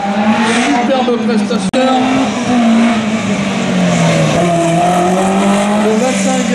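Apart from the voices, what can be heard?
rally car racing in a slalom event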